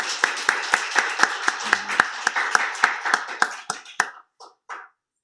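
A church congregation at a Sunday worship service claps in a steady, rhythmic beat of crisp, loud claps lasting about four seconds, then trails off into a few scattered claps and silence.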